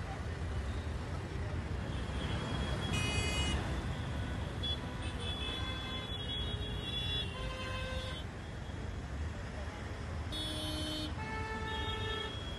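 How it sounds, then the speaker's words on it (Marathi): Roadside traffic on the flooded Sion–Panvel highway during heavy Mumbai rain: a dense steady roar of vehicles with several clear horn toots around the middle and end, with no speech heard. "त्यामुळे ट्रॅफिक जाम देखील ठिकठिकाणी झालेला आहे।"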